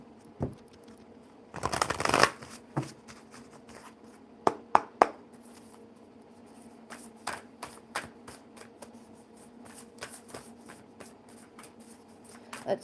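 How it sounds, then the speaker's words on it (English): A deck of cards gets a quick riffle shuffle in one short, crisp burst near the start, followed by scattered light taps and clicks of cards being handled and laid down in a quiet room. "let's shuffle them up one more time"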